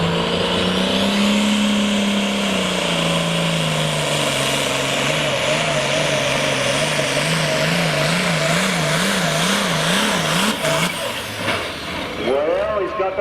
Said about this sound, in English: Here comes the Black Stripe Addiction to get a great night of truck and tractor pull it underway